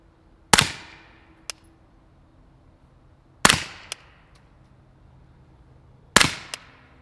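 A CZ Scorpion fitted with a Novox Research X-SD barrel fires 124 grain ammunition, three sharp cracks spaced about three seconds apart, each followed by a short tail and a faint distant ring of a steel target hit.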